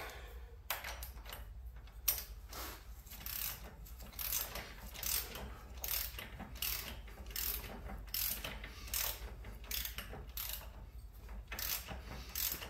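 Ratchet tightening the front axle nut on a 2006-2007 Polaris Outlaw 500 during a wheel bearing replacement: close, repeated bursts of rapid pawl clicking with short pauses between strokes, with no talk.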